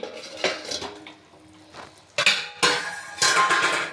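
Cabbage curry with spices stirred and sautéed in a pot, heard as a run of metal spoon scrapes and clinks against the cookware, coming in uneven bursts that grow louder toward the end, close by.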